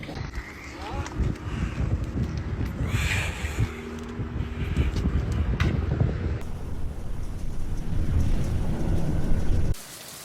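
A violent, fast-moving thunderstorm over Nebraska in the central United States, with heavy rain and gusting wind roaring steadily, deep thunder rumbling underneath, and a faint voice in places before the sound cuts off abruptly near the end.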